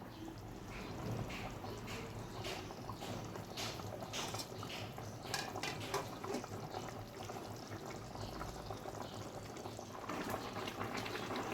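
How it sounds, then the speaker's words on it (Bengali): Rohu fish curry bubbles in a pan in Bengali style, a soft continuous simmering burble with small pops, fairly quiet and close. "জলটা গরম করে দিয়েছিলাম, তার জন্য ঝোলটা প্রায় ফুটে গেছে।"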